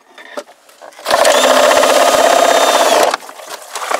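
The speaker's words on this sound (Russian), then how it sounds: "Да сверлит, давай, сверли." A cordless drill bores into a polypropylene water pipe in a loud, close whir that lasts about two seconds and then stops abruptly, with quieter handling noise before and after.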